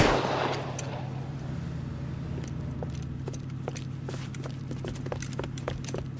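Gunshots in the crime video game LA Noire, heard as a loud opening blast followed by a steady string of sharp, evenly spaced shots over a constant low engine-like hum.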